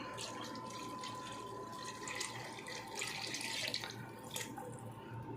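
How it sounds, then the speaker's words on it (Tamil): Measured water is poured into a pot of chicken biryani, a soft steady splashing and trickling that swells and fades, fairly faint and with no talk over it. "இப்போ வந்து அளந்து வச்ச தண்ணியை நம்ம ஊற்றுறோம்"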